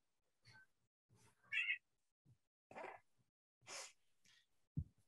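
A cat lets out several short, close chirping meows and soft snuffly breaths, with quiet gaps between them and no one talking.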